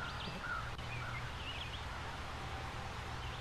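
Birds chirp and call in short, scattered phrases over a steady background of wind and low ambience, fairly faint and a little distant.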